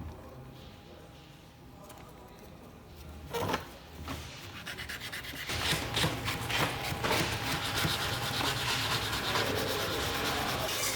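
An aluminum interior insert being hand-sanded with 320-grit sandpaper, starting with a few scattered rubs and a sharp knock, then settling into steady, fairly close back-and-forth scraping strokes, with no talking.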